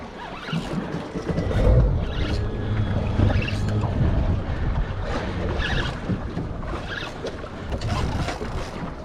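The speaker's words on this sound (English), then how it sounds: "Now just start the motor in case we need to manoeuvre" A boat motor runs at sea, a steady low drone beneath wind buffeting and water noise, continuous throughout with no talk.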